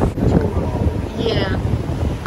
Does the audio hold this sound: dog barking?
no